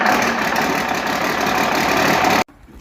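1979 Honda CT90 motorcycle with an aftermarket Chinese carburetor, a steady, close engine running at idle with an even buzzing tone, cutting off abruptly before the end.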